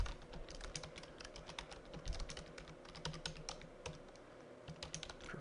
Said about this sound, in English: So I'll type in the name of a FLIMP here